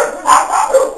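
A dog barks close by and loud in a single short burst, breaking into two or three quick yelps within about a second.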